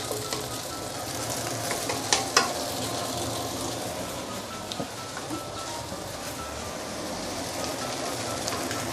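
Rice noodles for char hor fun stir-fry in a hot wok with a steady, dense sizzle, broken by a couple of sharp metallic clanks from the spatula.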